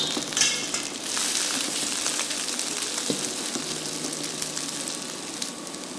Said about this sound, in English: And when the oil is hot, fry your anchovies.